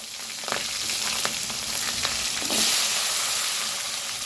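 Chopped onions and cumin sizzling in hot oil in a pan while cooking a Tamil tamarind gravy, a continuous close crackle with occasional louder pops and stirring scrapes.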